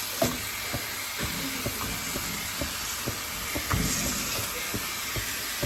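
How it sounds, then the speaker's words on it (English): Crumbled sausage browning in a frying pan makes a faint, steady hiss of sizzling fat, dotted with small, irregular pops and crackles and no voices over it. "just kind of break this up and cook it a little bit, brown it up"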